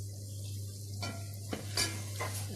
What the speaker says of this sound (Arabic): وبقلب في البصله عشان تدبل بس شويه